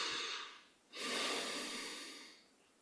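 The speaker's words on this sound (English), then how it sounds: "deep breaths, just nice 3 breaths in" Slow, deep breathing during a relaxed guided meditation, a long soft airy exhale fading, a brief pause, then another full breath drawn in close to the microphone, with no talking.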